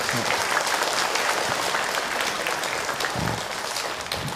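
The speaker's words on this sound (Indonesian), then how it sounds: "Tepuk tangan buat kita semua." A religious lecture audience breaks into applause, dense crowd clapping heard close and fairly loud, continuing throughout with a faint murmur of voices beneath.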